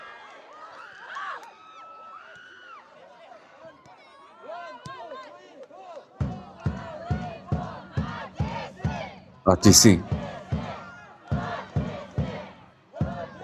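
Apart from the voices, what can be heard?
football supporters' section cheering and chanting in stadium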